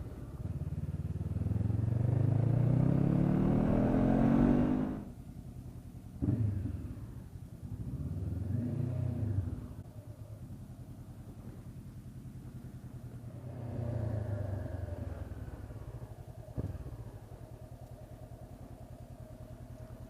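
A motorcycle ridden on a commute on dry roads, its engine rumbling loudly and steadily for the first five seconds, then easing into quieter, intermittent revs and passing road noise.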